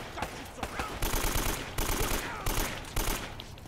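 Gunfire in the Uncharted: Drake's Fortune video game, with rapid automatic bursts crackling in repeated volleys, separated by brief gaps and sounding fairly close and dense.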